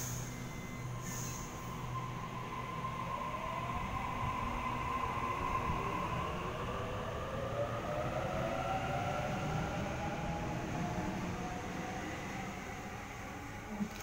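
A Sydney Waratah Series 1 electric train, set A68, departs platform 1 at Turrella station. A continuous rumble carries rising motor whine tones as it pulls away, steady and fairly close throughout.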